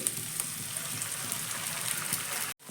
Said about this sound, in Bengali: এখানে আমি ডিমের ভুজিয়াটা ভাজবো